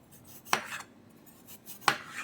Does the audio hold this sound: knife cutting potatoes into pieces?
yes